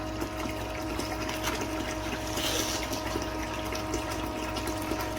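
Water rushes steadily through a mining wash machine, flushing magnetite material in a continuous close splashing wash with a pump-like hum underneath.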